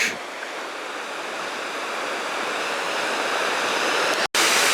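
The Sorrosal waterfall in Ordesa Park, Spain, gives a steady, full roar of falling water that stays constant and fairly loud throughout, with a brief break near the end.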